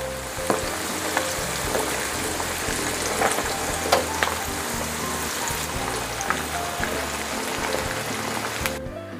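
Battered tuna pieces sizzling in hot oil in a pan while being turned, a dense steady crackle with scattered sharper pops and light scraping, no talk.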